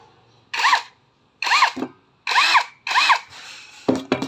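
A cordless drill with a brushless motor spins up in four short loud bursts, each whining up and back down, and a rougher final burst follows; no speech.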